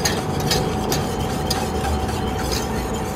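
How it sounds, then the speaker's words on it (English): Custard being whisked in a pot on the heat, a fast busy scraping and clinking of the whisk against the pot over a steady background hiss, close and continuous. "The faster you can whisk, the smoother the custard you will get."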